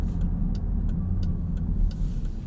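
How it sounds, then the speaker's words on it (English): A 2023 Dodge Durango SRT Hellcat cruises with its supercharged engine and exhaust giving a deep, steady low rumble heard from inside the cabin, with faint rhythmic ticks over it. "The exhaust is pretty loud."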